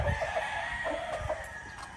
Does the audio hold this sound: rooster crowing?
yes